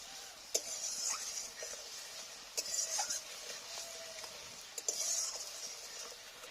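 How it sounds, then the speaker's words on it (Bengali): Spice paste with Kashmiri chili powder being fried and stirred in a pan for a vegetarian lau dhokar dalna, soft sizzling under scattered utensil scrapes and taps, with no talking. "এবার মশলাটাকে একটু ভালো করে কষিয়ে নেব"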